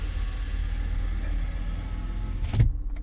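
A steady low whirring hum, like a pump, from a 2016 Chevrolet on a road test with a suspected slipping transmission, continuous and fairly loud, with a brief louder bump near the end.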